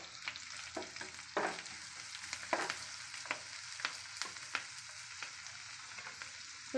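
Two dried red chillies crackle and sizzle in hot oil in a pan, with steady frying hiss punctuated by sharp pops and occasional stirring scrapes, close and fairly quiet, no voices.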